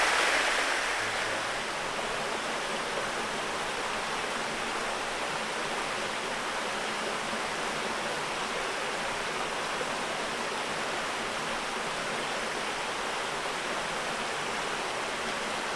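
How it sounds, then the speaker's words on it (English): Spring water flows in a creek on an off-grid homestead, a steady, even rush that fills the air for the whole stretch, heard alone without any voices. "Sound of the spring water in the creek."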